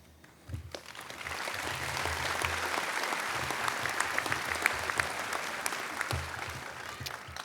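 A law school graduation audience breaks into sustained applause during a valedictory speech, the dense clapping rising sharply after a brief quiet start and holding steady and full to the end.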